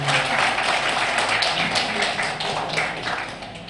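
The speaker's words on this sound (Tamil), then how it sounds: "கொஞ்சம் கைத்தட்டி உற்சாகப்படுத்தினா சிறப்பாக இருக்கும்" An audience at an evening talk claps to welcome a speaker, a thick, even patter of many hands that eases slightly toward the end.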